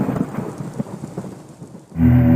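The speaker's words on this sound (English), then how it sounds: "Because after you get struck by lightning, there's thunder." Thunder from a GTA Vice City radio advert for the Maibatsu Thunder car: a long, loud rumbling roll with rain-like crackle, building into a dense, heavy burst at the end.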